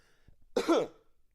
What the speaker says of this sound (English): I coughed into the mic